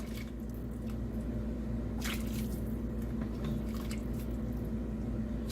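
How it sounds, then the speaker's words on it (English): Hot broth is ladled into a pot of cooking orzo for a spicy Spanish dish, giving a faint, continuous wet pouring and sloshing with a few brief splashy spikes. "So we're ladling in our broth."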